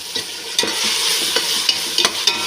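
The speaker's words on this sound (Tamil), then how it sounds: "பச்சை மிளகாய், இஞ்சி பூண்டு விழுதை நாம் இதில் சேர்த்துக்கலாம். இதையும் நல்லா கலக்கி விட்டுருங்க" Green chili and ginger-garlic paste stir-frying in oil for Ambur mutton biryani, a close, continuous sizzle punctuated by several sharp spoon scrapes against the pan.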